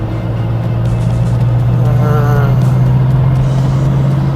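A Toyota Hilux Vigo 2.5 G Prerunner turbo pickup from 2013 holds a loud, steady engine drone from inside on a test drive, with a short rise in revs partway through.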